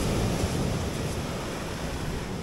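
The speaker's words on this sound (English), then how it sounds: "waves coming all the way up here and the odd time going back down along" Ocean waves wash steadily onto a rocky shore in West Cork, Ireland, as a continuous, close, broadband rush of surf with wind mixed in and no pauses.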